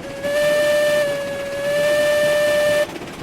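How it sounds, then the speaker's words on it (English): A steam locomotive whistle in the train game RailRoads Online blows one long, loud, steady tone for nearly three seconds, then cuts off to quiet background hiss. "One last whistle."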